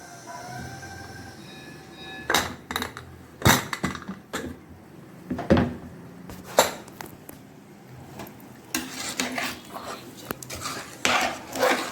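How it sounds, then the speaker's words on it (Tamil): A pressure cooker of sambar rice is opened in a home kitchen, with sharp metallic clanks and knocks of the lid and vessel spaced irregularly over a quiet background. "இப்போ வந்து நம்ம குக்கர் திறந்து எப்படி வந்துக்குதுன்னு பார்த்துக்கலாம்"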